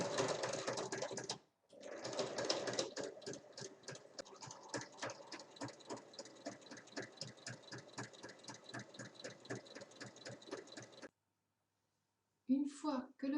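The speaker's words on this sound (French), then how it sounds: "maintenant on pique tout le tour à 1 mm" A sewing machine topstitches around a fabric drawstring pouch with a quiet, steady rapid stitching rhythm. It runs for several seconds with a brief pause and stops near the end, followed by a short burst of speech.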